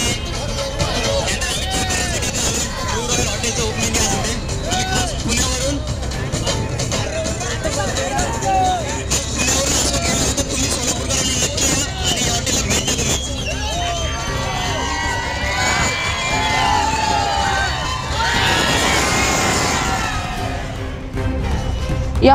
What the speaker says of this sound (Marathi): चक्क सोलापुरातील हजारो तरुण त्याला पाहण्यासाठी अलोट गर्दी केली